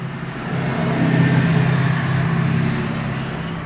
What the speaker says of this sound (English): Sorry about these vehicles driving by here, it's a little loud